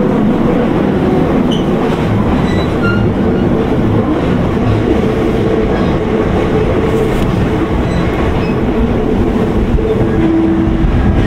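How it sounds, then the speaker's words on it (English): A Chuo Line Holiday Rapid Okutama train runs from Shinjuku toward Okutama, heard up close in binaural as a loud, steady rumble of wheels and motor with no breaks. "This is an Okutama Holiday Rapid Service Train for Okutama"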